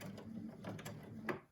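A sewing machine stitches a fabric surgical mask close to the edge, producing a faint, quiet mechanical whir with a few light clicks and ticks over about a second and a half.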